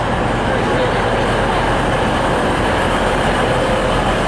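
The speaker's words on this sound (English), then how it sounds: "Here comes my train, the 22:11, 10 past 10 train back to Chesley Street" A train, the 22:11 service to Chesley Street, pulls into a station with a steady loud rumble and rolling wheel noise throughout, continuous and close.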